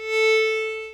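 A single sustained viola note played tenuto, bowed smoothly from the string with a soft landing and held evenly for about a second, swelling slightly then easing off, solo.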